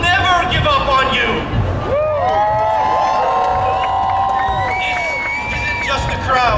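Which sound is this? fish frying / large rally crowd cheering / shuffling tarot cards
large rally crowd cheering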